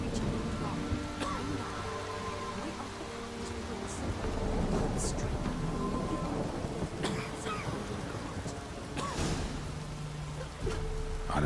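A thunderstorm in the video game The Witcher 3: steady rain hisses throughout while rumbles and cracks of thunder roll in and out, with a voice speaking briefly over it.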